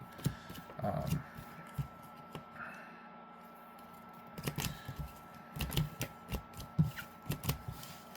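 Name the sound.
shuffling playing cards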